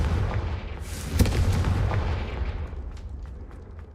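A Confringo fire spell explodes in the Hogwarts Legacy video game: a sharp boom with a crackling burst, then a rumbling tail that fades over a few seconds.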